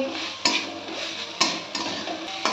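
Long-cut potato pieces are stirred and fried with spices in a pan for a fish curry. A low sizzle runs under three distinct scraping strokes of the spatula, spaced about a second apart.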